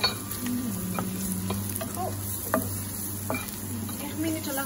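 Coriander powder and other spices fry in a pan for a prawn bhuna, a steady close sizzle with occasional light scrapes and taps of a stirring spoon, no voices.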